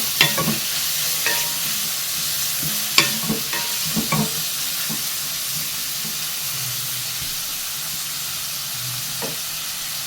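Onions frying in hot oil in a pan for aloo pulao, a steady close sizzle running throughout with occasional sharper crackles and stirring clatters, no voices.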